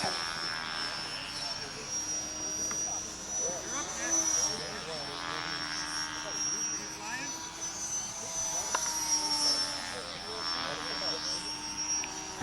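Electric Wildcat model airplane flying at a model aircraft event, its steady motor whine running throughout the clip, with people talking over it.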